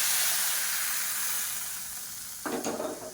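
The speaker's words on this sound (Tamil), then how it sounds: "இப்போ அப்படியே எடுத்து தாளிப்பு இந்த ரசத்தில் சேர்த்துக்கலாம்" Chili tempering, with chilies fried until nearly charred, is poured into pepper rasam and bursts into a sharp, loud sizzle near the end after a steady background hiss.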